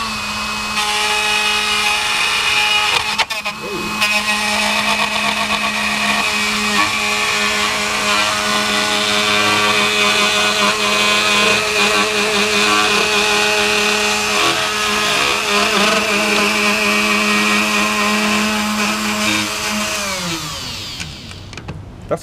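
A router cuts a plastic arcade control panel for a Capcom Big Blue cabinet, a loud steady motor whine with a cutting drone that holds for about twenty seconds before winding down at the end.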